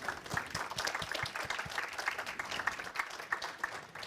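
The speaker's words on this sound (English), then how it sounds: "First of all, a big applause for Thomas for this presentation" Audience applause after a tech presentation on stream processing with Apache Flink, a moderate crowd clapping steadily and somewhat faint, continuous for a few seconds with no speech.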